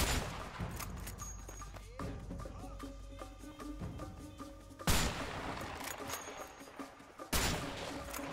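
Bursts of gunfire from the co-op video game A Way Out, with dense volleys and sharp louder bursts near the middle and later, over a continuous game soundtrack and action noise.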